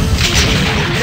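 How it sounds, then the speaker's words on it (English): A rocket launcher fires in the Metal Slug arcade game, a loud, dense booming blast that fills the whole short moment with no gap. "Rocket launcher."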